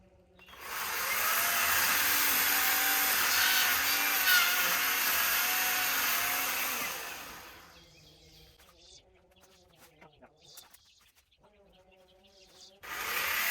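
A power saw cuts through tree limbs while land is cleared for a modular home, a loud harsh buzzing cut lasting several seconds, then dropping to quieter rustling and a brief restart at the end.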